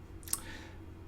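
A single sharp click of the enter key being pressed on a computer keyboard, brief and quiet against a low room hum.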